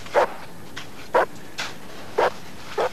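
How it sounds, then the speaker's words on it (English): Avalanche rescue search dogs bark outdoors in the snow, giving five sharp, separate barks spaced about half a second to a second apart, loud and close against a quiet background. "Some of the dogs will stand over you and they'll bark on you and slaver all over you."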